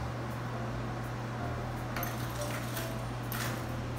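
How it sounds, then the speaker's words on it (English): Hot fried zeppole are tossed in granulated sugar inside a bowl, giving a soft, continuous scratchy rustle with faint clinks as the dough balls tumble and roll around. "Toss them around a little bit, make sure you got sugar on all of them."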